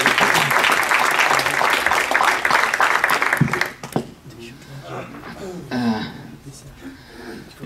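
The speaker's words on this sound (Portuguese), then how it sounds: "Bom, que tal uma salva de palmas antes de mais nada?" Audience applause at a community user group gathering, a dense burst of clapping that lasts about four seconds and then stops, followed by someone talking with light breathing and chuckling.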